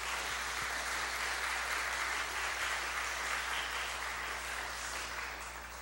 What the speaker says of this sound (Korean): 박수를 같이 보냅시다.